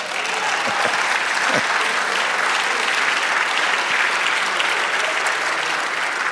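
A church congregation gives loud, sustained applause during a Spanish-language sermon on grace, a dense wall of many hands clapping that holds steady throughout, with a few brief shouts cutting through near the start.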